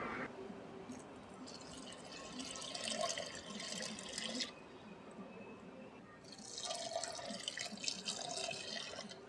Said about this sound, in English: So now we will just water it.